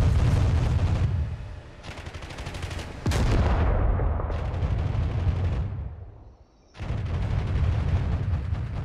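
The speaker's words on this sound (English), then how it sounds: "Boom, the lead tank just got blasted for the Americans." Tank cannon fire in the Digital Combat Simulator game, with heavy booming blasts at the start and again near three seconds, amid continuous loud battle rumble and a brief lull before the din returns.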